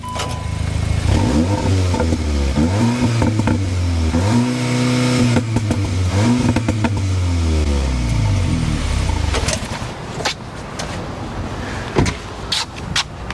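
A Cupra Formentor VZx engine set in Cupra mode revs hard several times while parked, each rising then falling, close and loud and bouncing off what sounds like a soft limiter, before dropping back to a quieter idle with a few knocks.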